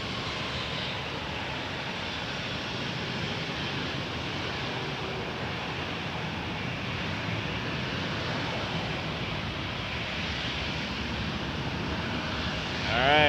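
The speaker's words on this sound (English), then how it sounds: "A321 Air Canada" Air Canada Airbus A321 airliner at Toronto Pearson Airport, a steady, broad engine roar at moderate distance, holding constant for several seconds and swelling slightly near the end.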